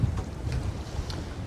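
Wind gusting over a sailboat under way on open water, a steady broadband rush with low rumbling buffets against the microphone, no voices.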